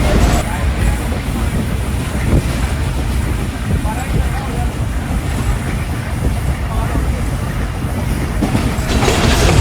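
A train rolls toward the platform at Kotri Junction, a loud continuous rumble of wheels and wagons with faint clickety-clack and wind buffeting throughout, and no clear speech.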